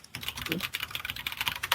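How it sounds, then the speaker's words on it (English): Fast, continuous typing on a computer keyboard with dense clicking keystrokes, close and fairly loud, with a faint voice briefly underneath. "I can hear you typing, LJ."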